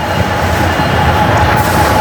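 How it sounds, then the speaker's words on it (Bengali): The Lalmoni Express pulls into Kamalapur railway station in Dhaka, a loud, continuous close rumble of the passing train with a faint high wheel whine running through it. "এই যে গাইজ ট্রেনটিও ঢুকে গেল মাত্র আমাদের লালমনিরহাট এক্সপ্রেস"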